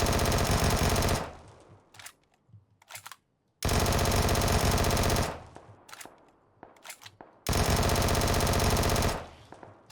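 Automatic rifle spraying three full magazines with a laser sight attachment in PUBG, three long loud bursts of rapid continuous gunfire separated by short pauses with faint clicks of reloading between them.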